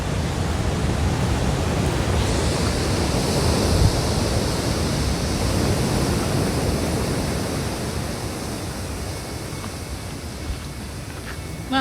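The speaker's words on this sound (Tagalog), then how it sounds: "Ang ingay ng dagat." Sea surf at Red Rocks Reserve on the New Zealand coast on a cold drizzly day, a loud continuous roar of breaking waves that fills the air, with wind buffeting close by.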